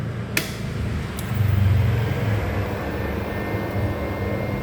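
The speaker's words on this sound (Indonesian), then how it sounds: "Nyalakan dulu mesin lasnya." A Golden Bull 450-watt, 120-amp welding machine runs with a steady, even electrical hum. A sharp click comes near the start, and a brief swell follows.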